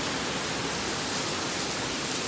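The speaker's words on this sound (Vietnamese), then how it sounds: "Mưa tình hình này không hết nổi đâu." Heavy rain pours down in a steady, dense hiss that fills the whole moment, loud and unbroken with no voices.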